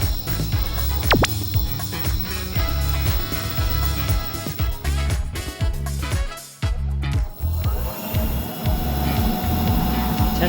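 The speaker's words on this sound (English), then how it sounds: "Testing the throttle shows the motor running powerfully." An upgraded ebike motor on a high-power controller whirs under throttle with a steady tonal whine, rising and falling in pulsing surges and briefly dropping out before spinning back up, loud and close.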